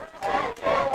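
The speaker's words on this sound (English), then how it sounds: "Viking crowd very excited here to finally have a lead" Home fans at a South Tahoe Vikings varsity high school football game roar in two quick surges, a broad, loud wash of crowd noise from an outdoor stadium.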